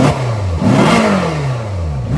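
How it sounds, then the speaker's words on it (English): A 2010 Ferrari California with a 4.3-litre V8 revs up close by, its loud engine note rising and falling in a couple of quick blips within about two seconds. "let's give it some revs so y'all can hear it"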